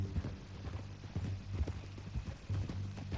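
Horse hooves clip-clop steadily at a walking pace in the video game Red Dead Redemption 2, the rhythmic thuds close and clear with no talking.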